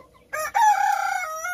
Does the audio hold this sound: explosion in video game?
no